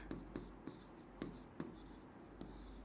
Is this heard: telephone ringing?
no